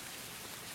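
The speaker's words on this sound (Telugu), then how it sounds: "చాలా పెద్ద వర్షం కదా." Heavy rain pours down as a steady, even hiss for a brief moment, fairly faint and with no other sound.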